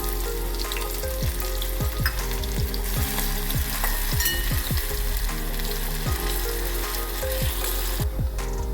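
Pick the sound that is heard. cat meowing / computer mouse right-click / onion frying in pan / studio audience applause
onion frying in pan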